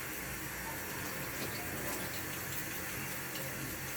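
Tap water runs in a loud, steady rush as a painted model is rinsed for salt chipping, a continuous spray with no pauses or talk.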